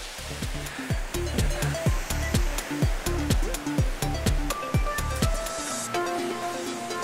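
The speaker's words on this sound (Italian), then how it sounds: "e i mulinelli servono per, per ossigenare l'acqua." Paddlewheel aerators churn spring-fed water in a trout fishing pond, a steady rushing splash with a rhythmic slapping pulse repeating roughly every half second, close and continuous.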